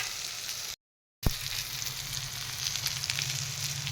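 Brinjal curry sizzles in a pan and is turned over with a spoon, giving a steady close fry with light scraping. A short silent gap breaks it, then a sharp click before the sizzle returns.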